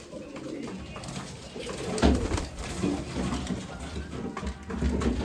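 Pigeons gather to eat biryani rice, soft cooing and wing flutters mixing with pecking and shuffling close by, a continuous busy murmur of birds with some background voices.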